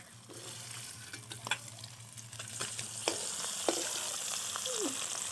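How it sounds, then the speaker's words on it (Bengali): Fish frying in hot oil, a faint steady sizzle broken by scattered sharp pops and crackles that grow busier toward the end. "মাছ এত ফাটা পাচ্ছে যে সব ভয়তে শ্বাস করে যাচ্ছে"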